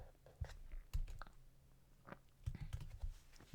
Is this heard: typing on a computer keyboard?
yes